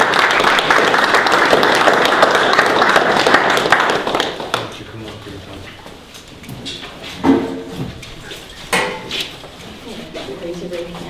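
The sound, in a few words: audience applause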